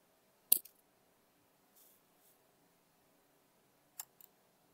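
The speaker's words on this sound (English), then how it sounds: "Click your avatar." A computer mouse clicks a few times in a quiet room, one sharp click early and a quick pair near the end, with faint soft handling sounds between.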